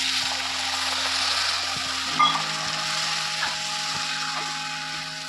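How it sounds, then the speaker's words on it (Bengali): Water hitting a hot pan of paneer curry sets off a loud, steady sizzling hiss, with a sharp burst at first contact and spoon scrapes against the pan. No one speaks. "এবার একটু জল দিয়ে দিচ্ছি।"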